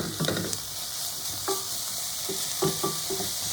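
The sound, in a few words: prosciutto frying with onions and garlic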